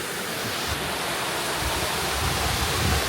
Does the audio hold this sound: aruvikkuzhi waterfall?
yes